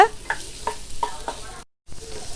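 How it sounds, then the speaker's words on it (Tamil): Chopped onions sizzle and fry in a pan for a rock lobster roast, with a steady hiss broken by several sharp scrapes of a spoon stirring, close and clear, then a brief silent gap before the frying resumes. "வெங்காயம் சேர்த்துட்டு நல்லா கலந்து விட்டுருங்க"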